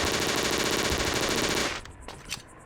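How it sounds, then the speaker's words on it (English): Gunfire in the FPS Creator shooter Operation Ubersoldat, a loud sustained rapid burst of shots that cuts off abruptly, followed by a few scattered quieter reports and a sharp final shot. "we very nearly got sniped there"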